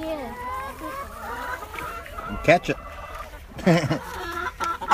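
Free-range laying hens cluck and squawk nearby in short bursts, with a couple of louder agitated calls, while people talk over them.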